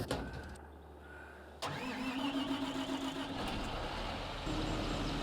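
A leased vehicle's engine cranks and catches in a farming video game, then settles into a steady, loud idle that carries on to the end with no talking.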